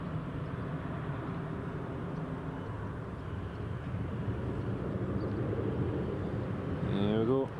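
A Ryanair airliner takes off at Newcastle International Airport, its jet engines rumbling at a distance and swelling gradually louder toward the end.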